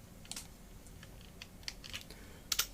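Keys on a computer keyboard are pressed during prop editing in a 3D program, a handful of soft, quiet clicks spread unevenly with a sharper double tap at the end.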